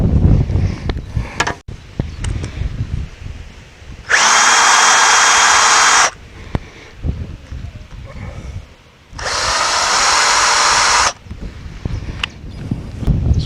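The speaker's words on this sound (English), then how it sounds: "So with those top 2 holes drilled" Power drill boring holes through a Polyplastic opening rear window hinge rail on a Ducato-type camper van, two sustained bursts of about two seconds each, loud and close, separated by quieter handling and clatter.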